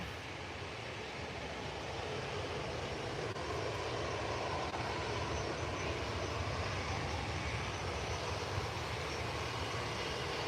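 EasyJet airplane at Manchester Airport, a steady broad engine roar held at a constant level throughout, heard from a distance outdoors with wind noise and no talk.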